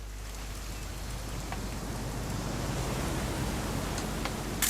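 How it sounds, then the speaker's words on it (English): Steady rain from the video game What Remains of Edith Finch, a dense even hiss of falling water with faint drop ticks, holding constant and slightly swelling toward the end, with no voices. "It's gonna rain the whole weekend, isn't it?"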